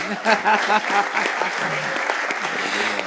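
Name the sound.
audience applause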